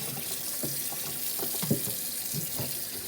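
Tap water runs steadily into a sink while a raw chicken is rinsed under the faucet, the flow broken by splashy gurgles and soft knocks as the bird is handled, close by.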